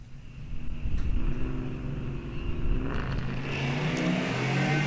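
A Camaro ZL1 and a Track Pack Charger 392 Hemi race heads-up on an eighth-mile drag strip, their engines giving a steady, fairly distant rumbling roar that builds as they accelerate.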